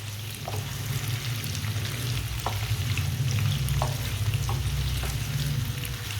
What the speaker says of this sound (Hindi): इसे ऐसे ही चम्मच चलाते हैं कि पकाना नहीं तो एक साइड से पक जाएंगी चीज़ें